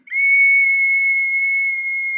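A loud, steady, pure whistle from a water whistling vessel held for about two seconds, clear and close, with no voices.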